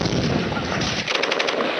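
Enemy artillery guns firing in a war scene, a dense, continuous roar of rapid gunfire with sharp repeated cracks, loud and sustained throughout.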